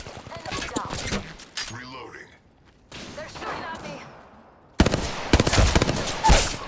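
Sniper gunfire cracks in Apex Legends as sharp, loud shots, with a dense burst of rapid firing near the end, mixed with spoken talk.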